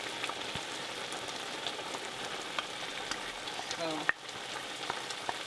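Palm oil sizzling and frying in a pot of Liberian palava sauce, a steady close crackling hiss with a sharp clink partway through and a brief spoken word.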